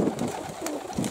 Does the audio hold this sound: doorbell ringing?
no